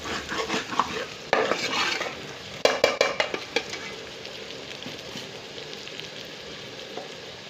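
Red chili powder being stirred into fish curry masala in a pan, with a spoon scraping and clinking in bursts over a steady frying sizzle, busiest in the first half and then easing to a quieter simmer.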